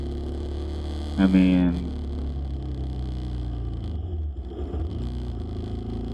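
A bus engine idles steadily in the Philippines, a low continuous rumble and hum running through the whole stretch, with someone speaking briefly over it near the start.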